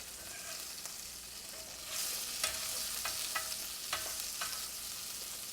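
An egg sizzling as it fries in a pan while making a sandwich, a steady crackling hiss that swells as the egg lands, with a few sharp pops and clicks over it.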